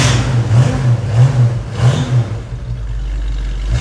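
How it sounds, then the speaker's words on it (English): A 1968 Ford Mustang coupe engine with dual exhaust revs in a few rising and falling swells on fast idle after a fresh start, close and loud, with a deep steady exhaust rumble underneath and no voices. "It starts very nice, good sound and dual exhaust."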